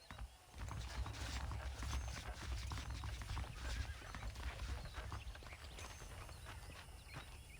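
Saddled horses in Red Dead Redemption, steady close clip-clopping hooves with scattered clicks of tack and a whinny, continuing throughout at moderate volume.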